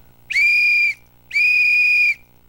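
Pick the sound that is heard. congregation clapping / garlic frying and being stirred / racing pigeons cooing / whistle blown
whistle blown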